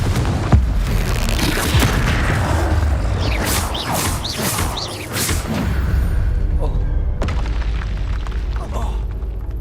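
Confringo fire spell blasts in the video game Hogwarts Legacy: loud, booming explosions and rumbling crashes that follow one another without a break, with a voice calling out over the din.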